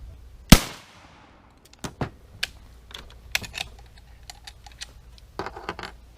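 A Canadian Long Branch Lee Enfield rifle fires one sharp, loud shot that rings out briefly, followed by a series of lighter metallic clicks and clacks from handling the action.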